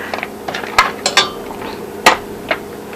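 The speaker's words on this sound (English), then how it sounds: "We're going to stir in our seashell macaroni." A spoon stirring seashell macaroni in a cooking pot, giving a few sharp metallic clinks and scrapes at irregular intervals against a quiet kitchen background.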